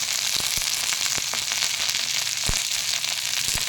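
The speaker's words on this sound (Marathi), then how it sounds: "आता याला छान चांगलं आपण भाजून घ्यायचं भेंडी भाजत असतानाच" Okra (ladyfinger) frying in a pan, a dense continuous sizzle with scattered sharp crackles and pops, close and fairly loud, no one talking.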